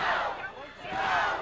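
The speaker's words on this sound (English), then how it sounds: "Jason is not used to hearing the crowd." Stampede Wrestling crowd from 1987 shouting and cheering at a live match, a loud surge of voices that dips briefly and then rises again.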